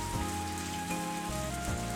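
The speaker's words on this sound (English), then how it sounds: "Driven by the wind, pellets of rain are forcefully flying into my room." Steady rain from a video game hisses continuously over a low, droning hum, with no voices.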